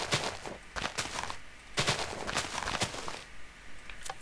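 Minecraft TNT cannon firing in the game, a rapid series of loud crackling explosive blasts in clustered bursts, one after another, with no voices.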